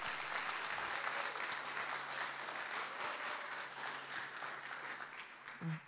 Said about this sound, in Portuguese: Aplaude o Senhor aí com força